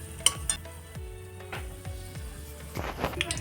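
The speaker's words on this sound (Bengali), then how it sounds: "গ্যাসের ফ্লেমটা মিডিয়ামে রেখে আমি সবগুলো মিষ্টি ভেজে নেব।" Milk-powder sweets frying over a medium gas flame give a steady soft sizzle, broken by several scraping, clinking stir strokes in the pan, with no talking.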